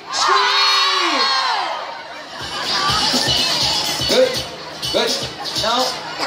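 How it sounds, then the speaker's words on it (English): A crowd of people at an event screams together on cue: one loud rising shout opens, then a dense, sustained wall of cheering and shrieking voices with whoops, near and loud throughout. "Okay, people on the left. 1, 2, 3, scream!"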